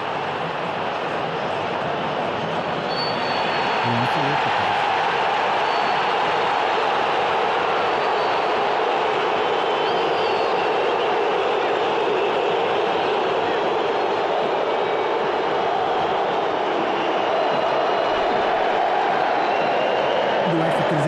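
Flamengo football supporters chanting and booing as a crowd, a dense continuous roar that swells after a few seconds and stays loud, with no clear individual voices.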